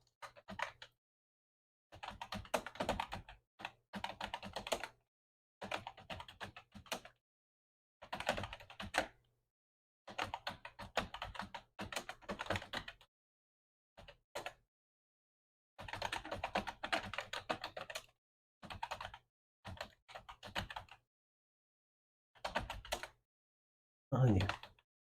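Rapid bursts of typing on a computer keyboard while building an Excel spreadsheet, close and crisp, in short runs of keystrokes separated by brief silent pauses, with no talking.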